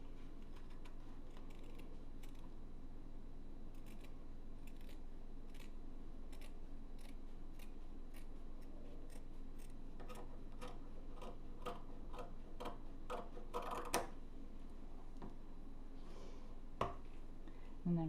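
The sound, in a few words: scissors cutting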